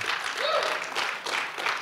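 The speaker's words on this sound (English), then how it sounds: "you can clap." Church congregation applauding during a service, a short, moderately quiet patter of many hands clapping with no break.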